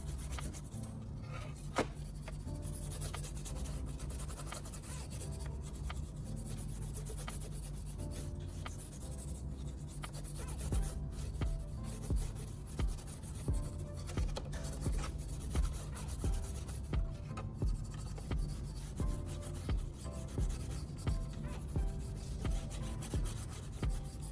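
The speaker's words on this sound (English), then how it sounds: "I'll use a small brush to scrub the fizzing mixture into the metal, lifting away the years of neglect." Small brush scrubbing a fizzing cleaning mixture into a rusty hand saw blade, a steady rough rubbing with faint fizz, growing into regular rhythmic scrub strokes in the second half, close and alone.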